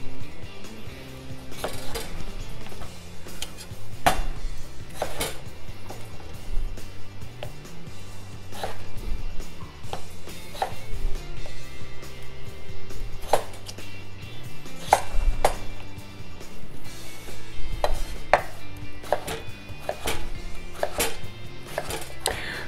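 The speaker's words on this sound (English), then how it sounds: "Now we're going to cube the potato." A knife cubing potatoes for clam chowder on a cutting board, steady close taps and chops repeating throughout with a busy kitchen clatter underneath.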